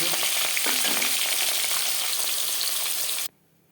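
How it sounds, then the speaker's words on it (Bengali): Bhangar fish frying in oil for a Bengali fish curry, a loud, dense, continuous sizzle close by with a few bubbling pops early on, stopping abruptly near the end. "পরের মাছ একইভাবে ভেজে নেব"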